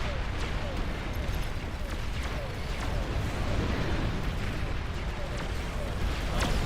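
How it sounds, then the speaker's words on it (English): Rapid plasma cannon shots slam into units in a Beyond All Reason RTS battle, a continuous barrage of overlapping booms and blasts with a voice talking over the din. "Plasma cannon just sniped my Tier 2 construct."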